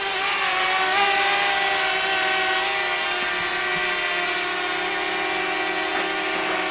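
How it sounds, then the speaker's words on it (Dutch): A camera drone hovering close by, a loud continuous high-pitched buzzing whine of spinning propellers holding steady throughout with slight pitch wavering. "we filmen hem ook met een drone"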